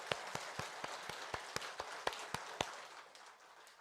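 An audience applauds in thanks at a Korean religious gathering, a steady run of distinct claps that is moderately loud and carries alone without speech, thinning out toward the end.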